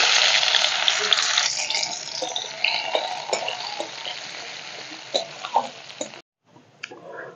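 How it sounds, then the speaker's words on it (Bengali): Crushed garlic fries in oil, giving a bright, steady sizzle with occasional stirring clinks. The sound gradually fades and stops abruptly near the end, with no talking. "রসুনটা আমি লাল লাল করে ভেজে নিয়েছি"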